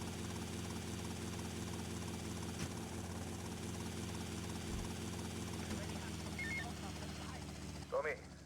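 A helicopter's rotor drones in the Grand Theft Auto Vice City video game during a speedrun: a steady, continuous whirring hum throughout, with a few faint game sound effects near the end.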